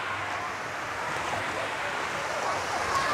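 Stream water flowing in front of a stilt house, a steady soft rushing wash with a faint windy hiss, continuous and fairly quiet throughout.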